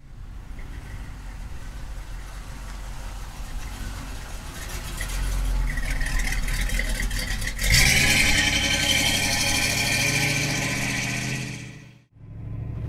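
A 1967 Chevrolet Camaro engine runs steadily at a car dealership, a broad low rumble that swells louder midway as if revved or pulling away, then briefly drops off near the end before resuming.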